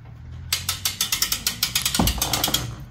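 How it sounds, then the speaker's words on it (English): A hand winch ratchets a wave runner up onto its trailer, producing about a dozen sharp, evenly spaced metallic clicks that start abruptly and continue steadily over a low background rumble. "So now they're winching it all the way up."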